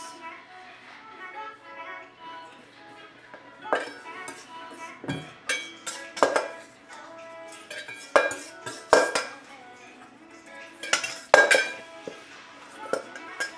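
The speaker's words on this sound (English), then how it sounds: "Just gonna give it one more mix." A spoon clinks and scrapes around a bowl while chocolate cookie dough is mixed with dry ingredients, with irregular bursts of clattering and some talking underneath.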